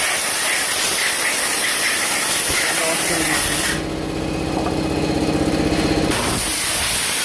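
A strong spray jet washes grime from a motorcycle's clutch plate housing with a loud, steady hiss. It drops out briefly and returns with a faster, rattling whir, and a voice is heard at times.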